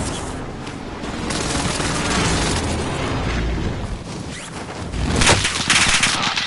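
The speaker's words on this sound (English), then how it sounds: "Allied precision airstrike." Precision airstrike explosions in the Call of Duty Warzone video game roll out as a loud, continuous barrage of booms and bursts, swelling into a heavier blast near the end.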